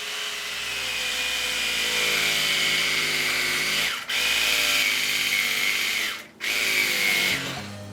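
Two-inch upholstery foam for a chair back is cut with a loud, steady power-tool whine that runs almost continuously, dropping out for two short breaks.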